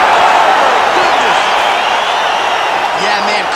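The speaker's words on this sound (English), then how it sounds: "Yeah, man, crowd loving it." A dense arena crowd in the UFC 5 fighting video game cheers continuously and loudly after a fight-ending knockout, with whistles and whoops rising out of the steady roar and a brief voice underneath.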